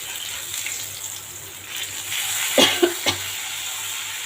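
Karunai yam slices fry crisp in a pan with a steady, soft sizzle, and a few short clinks and stirring knocks land close together near the end.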